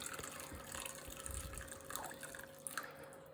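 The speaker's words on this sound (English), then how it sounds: "I'm just going to put in slowly amount of water," Water poured slowly into batter in a pan: soft trickling and dripping close by, faint and uneven, with small splashy bursts.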